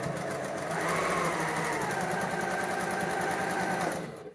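A sewing machine runs in one continuous, fast, even whir with a buzzing rhythm as it stitches the side seams of a lined jacket bodice, close and fairly quiet, ending as it slows near the end.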